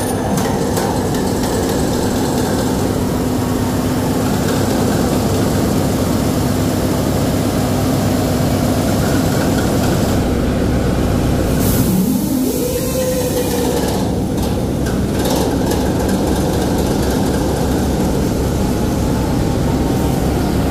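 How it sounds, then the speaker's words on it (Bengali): Diesel engine of the new Barishal river launch MV M Khan-7 running on a trial, a loud steady drone that fills the whole stretch, with a brief rising whine and faint clatter partway through. "ট্রায়ালের উদ্দেশ্যে টেলিগ্রাফের মাধ্যমে ইঞ্জিন রুমের সংকেত দেওয়া হলো, ইঞ্জিনকে চালু করার নির্দেশ দেওয়া হলো।"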